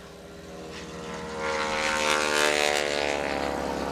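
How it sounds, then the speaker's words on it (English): A T-6 trainer's radial round engine runs on the takeoff roll at a STOL competition, a steady propeller drone with dense harmonics that swells louder about halfway through and holds strong, with no talk over it. "Check out the T6 on the roll now."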